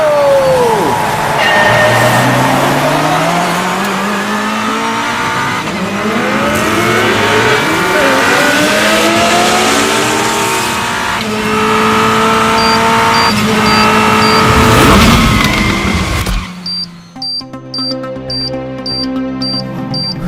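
Cartoon race cars in a super car race rev and accelerate loudly, engine tones sweeping up and down as they pass, with background music and voices mixed in; the scene ends in a musical sting.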